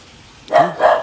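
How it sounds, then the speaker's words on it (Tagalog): A dog gives two quick barks close by, each a short full-throated burst with a brief pause between, after a moment of near silence. "May aso."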